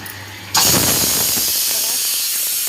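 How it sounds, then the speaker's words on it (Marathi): A pressure cooker in a home kitchen bursts into a loud, close steam whistle after a brief quiet moment, then keeps up a steady, strong hiss to the end. "ते आता कुकरची शिट्टी होतोय"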